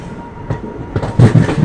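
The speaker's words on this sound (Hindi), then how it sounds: "फाइनली अब हम लोग पहुँच चुके हैं यहाँ सतना जंक्शन रेलवे स्टेशन" A train moves along the platform at Satna Junction railway station, its wheels thumping in a quickening clickety-clack rhythm that grows louder and closer over a short stretch.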